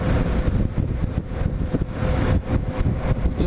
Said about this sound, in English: that wind's blowing me around so much